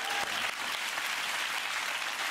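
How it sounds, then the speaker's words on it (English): Applause from a live comedy audience in England, a dense continuous wash of many hands clapping at steady loudness throughout, with no speech over it. "There's a man clapping that."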